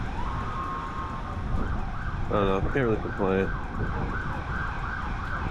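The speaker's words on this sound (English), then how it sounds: "Alright, that was a cop car though. Yeah, it's flying past." A police car siren wails as the car speeds past along a busy main strip in Miami, its rising and falling tone sweeping steadily over traffic noise, with a person talking briefly in the middle.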